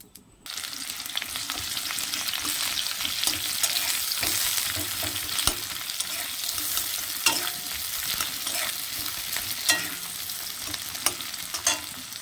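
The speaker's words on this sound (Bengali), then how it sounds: "এখন আমি পেঁয়াজটা ভেজে নেব।" Onions frying in hot oil with whole cumin in a kadai (wok), a steady close sizzle with stirring clatter and scraping throughout, no voices.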